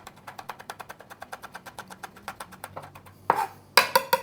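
A knife shaving a single chili pepper very thin on a cutting board, giving a quick steady run of light, evenly spaced taps that ends in a few louder knocks, with no one talking.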